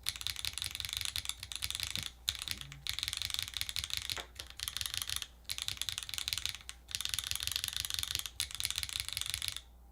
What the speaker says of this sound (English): Let's just do a typing test.